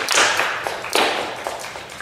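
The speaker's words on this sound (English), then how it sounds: "please give a round of applause to Professor Little" An audience at a lecture on voting and the politics of information breaks into steady, fairly close applause, a dense wash of clapping that fades slightly over two seconds.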